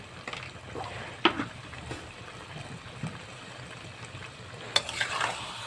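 Taro leaf greens and chickpeas stir-fried in a pan, with soft scraping and stirring scrapes, a few sharper clinks of a spatula, and a low steady sizzle underneath, fairly quiet and close.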